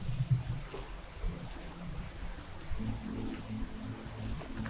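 Rain falling in the video game PEAK, a steady low rumbling patter that stays constant and fairly quiet throughout, with no talk over it.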